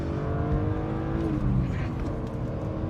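A 27-year-old BMW E36 M3 engine revs up and accelerates hard, a loud rising drone up close.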